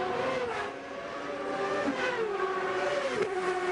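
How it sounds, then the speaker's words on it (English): Race car at Long Beach accelerating hard through a sequential gearbox, its engine note climbing and dropping with each quick upshift, loud and close with no talking. "Up through the sequential gearbox, pull back to go up a gear, push forward to go down a gear."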